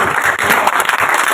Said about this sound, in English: Applause for Ravi Raj.